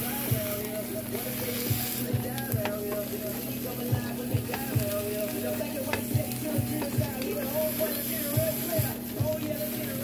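A grilled cheese sandwich with turkey breast sizzles and fries in a pan, a steady close crackle with occasional soft pressing thumps and a low background hum.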